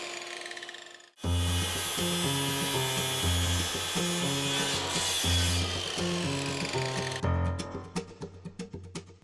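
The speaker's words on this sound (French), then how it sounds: "pourquoi j'utilise dans ce cas-là ma scie plongeante et pas ma scie sur table" A plunge saw cuts through wood in one loud, sustained pass with a steady motor whine and rhythmic grinding pulses, ending in a spindown with scattered rattles after the blade leaves the stock.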